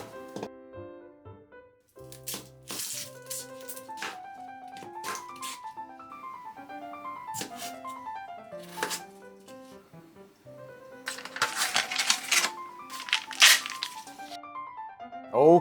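Knife chopping onion, carrot and mixed seafood into bite-sized pieces on a cutting board, with irregular bursts of sharp cuts and taps of varying pace over faint background music-like tones, close and moderately loud.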